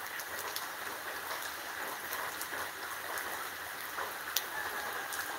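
Heavy rain pours down steadily in a flooded yard, a dense, continuous hiss with scattered sharper drop impacts throughout, no voices present.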